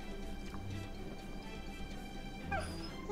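A puppy whimpers and whines in the video game Fate/Grand Order, a soft, continuous whine that rises slightly near the end over a steady background bed.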